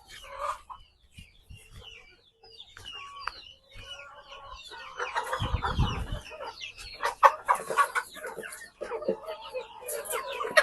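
Peruvian cross hens and roosters on a poultry farm cluck and call in a steady stream of overlapping sounds, fairly close, with one brief low thump in the middle and faint voices now and then.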